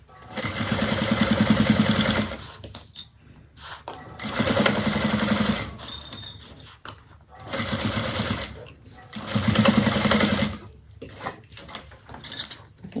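A sewing machine stitches a seam on a bag in repeated runs of steady whirring and needle chatter lasting a couple of seconds each, separated by brief pauses, close and clear.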